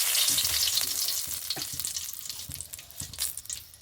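Bay leaves, dried red chilli and ground spices sizzle in hot oil for a rice-and-lentil khichuri, a steady close hiss broken by a few soft stirring scrapes, with no talking.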